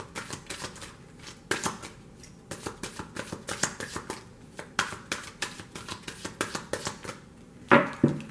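A tarot deck is shuffled by hand during a card reading, giving a steady patter of soft, close card riffles and slaps for several seconds. A few sharper snaps stand out, and no speech is heard.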